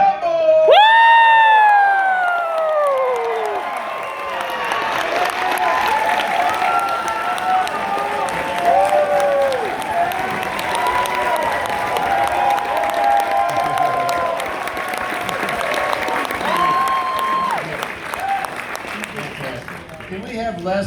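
A large fan crowd at an Evil Dead festival in Park City, Utah, applauds and cheers loudly for Bruce Campbell's entrance, with whoops and shouts over continuous clapping throughout.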